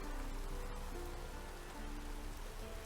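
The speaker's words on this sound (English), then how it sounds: "I hear rain sounds." Steady rain falling in the video game Dragon's Dogma 2, a continuous dense hiss of drops on surfaces that holds even throughout with no talk over it.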